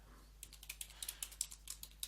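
Keys on a computer keyboard are typed in a quick, irregular run of light clicks, close and faint, while a command is entered to install VirtualBox through the default package manager.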